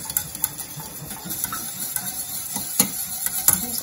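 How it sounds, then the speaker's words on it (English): Spices, flour and nutritional yeast being whisked in a pan, a quick repeated scraping and clicking of the whisk against the pan over a soft sizzle, close and steady with sharper taps now and then. "Adding a little bit at a time, giving it a whisk"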